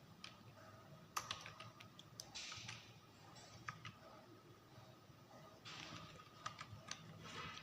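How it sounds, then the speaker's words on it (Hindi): A computer keyboard clicks in irregular bursts of quick, light keystrokes, fairly quiet and close, with pauses between clusters of typing. "तो मैं सेम टाइप कर रहा हूँ इसको"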